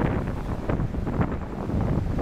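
Strong sea wind blasts across the microphone on a beach in Ganjam, Odisha, in a continuous rumbling roar, with faint surf underneath and no voices.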